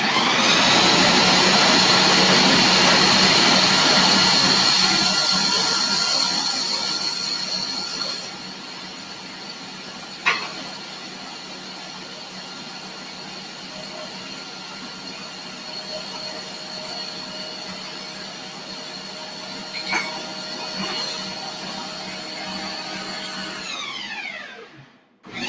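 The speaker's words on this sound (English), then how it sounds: "we're gonna blend these cashews just to get them" A blender grinding cashews roars loud and steady for several seconds, then settles into a lower, steadier whir with a couple of brief knocks before winding down and stopping at the end.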